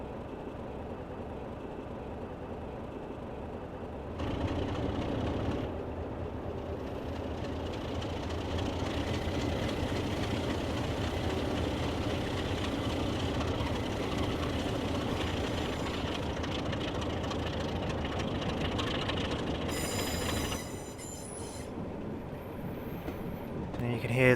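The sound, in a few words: BR Class 33 locomotive Sulzer engine in Train Simulator video game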